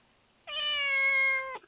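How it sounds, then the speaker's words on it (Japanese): A cat hidden in bushes gives a single clear, drawn-out meow, close and fairly loud, lasting about a second against near silence. "物音の正体は猫だった"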